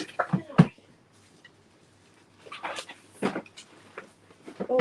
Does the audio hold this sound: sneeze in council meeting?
no